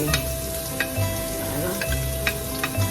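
Chopped onion sautéing in a heated pan for a macaroni soup, giving a steady close sizzle throughout, broken by several sharp clinks of a utensil stirring against the pan.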